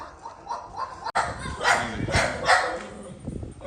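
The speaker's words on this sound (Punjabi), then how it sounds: "ਬਾਕੀ ਆਪਣਾ ਸਵਾਗਤ ਕਰਾਈ ਡੌਗੀਆਂ ਨੇ" Dogs bark in greeting at a home, giving a few loud, close barks in quick succession over a short stretch amid household background noise.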